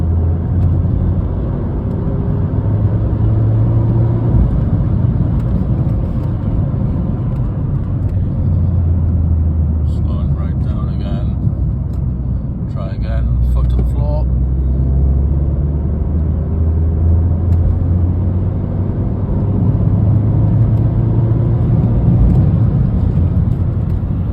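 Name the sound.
Peugeot 208 GTI 1.6 THP exhaust pulsing under full acceleration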